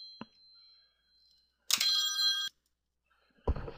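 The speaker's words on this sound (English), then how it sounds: "and my phone rings." A mobile phone rings once in a short bright electronic burst of under a second in an otherwise quiet room. Soft clicks come before and after it.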